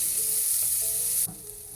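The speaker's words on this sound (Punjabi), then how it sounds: "ਪਿਆਜ਼ ਨੂੰ ਨਾ ਘਿਓ ਦੇ ਵਿੱਚ ਮਿਕਸ ਕਰਕੇ ਆਪਾਂ ਹਲਕਾ ਜਿਹਾ ਨਰਮ ਹੋਣ ਤੱਕ ਪਕਾ ਲਵਾਂਗੇ" Chopped onion frying in ghee in a pan for khichdi, a steady close hiss and sizzle with faint stirring, the sizzle easing slightly near the end; no voices.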